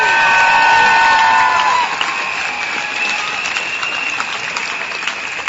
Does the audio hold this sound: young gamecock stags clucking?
no